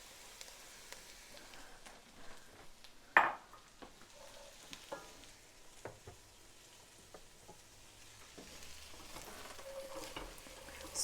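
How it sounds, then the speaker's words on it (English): Vegetable mix for clam chowder sizzling in a hot pot, a steady low frying hiss with occasional stirring clatter and one sharp knock, no voices. "we're going to add in for the first time our veggie mix"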